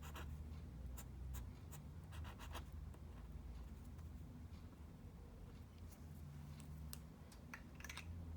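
A pen scratches out a bond-line chemistry diagram, faint intermittent strokes and taps over a loud steady background hum.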